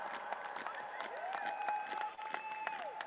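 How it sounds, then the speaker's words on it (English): Scattered applause from a commencement ceremony crowd honoring volunteers and a planning committee, with distinct individual claps sounding over a sustained tonal hum or music, at moderate level and without speech. "Please give them a round of applause."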